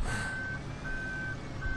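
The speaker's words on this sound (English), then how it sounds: "that continuous backup noise from this thing" A truck in the Farming Simulator 2013 video game emits repeated reversing beeps, steady evenly spaced tones over a low engine rumble, loud and without talk.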